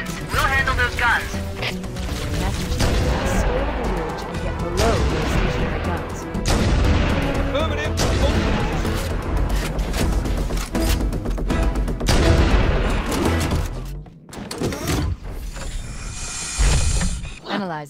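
Gunfire from Covenant guns in Halo: Combat Evolved crackles alongside booming blasts and mechanical clatter, dense and loud, mixed with music and voices talking throughout.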